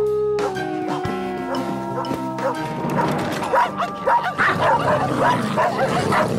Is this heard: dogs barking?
yes